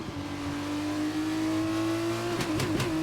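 F1-style race car engine in a racing video game at an Italy round, revving at a high steady pitch with quick shift blips near the end.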